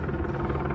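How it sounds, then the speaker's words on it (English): A helicopter passing nearby gives a steady, dense low rumble with a faint rhythmic rotor pulse, loud and continuous, with no voices. "sorry about the helicopter."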